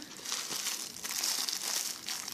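Plastic bubble-wrap packaging from an AliExpress parcel crinkles and rustles softly and continuously at close range, with small irregular crackles throughout.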